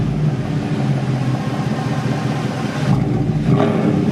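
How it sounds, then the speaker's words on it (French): Parked Mercedes C63 AMG from 2008 with its engine running, a steady deep throaty drone that swells slightly toward the end as the throttle is blipped, close and loud. "allumer ton véhicule et mettre 2-3 coups de gaz pour qu'on fasse écouter aux gens à l'arrêt"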